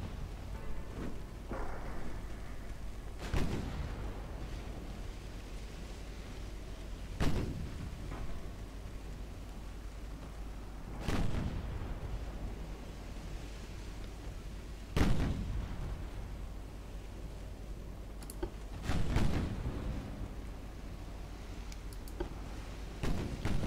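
Naval guns boom from warships in the game Ultimate Admiral Dreadnoughts, with heavy deep blasts going off at intervals of several seconds over a constant low rumbling bed, distant and resonant.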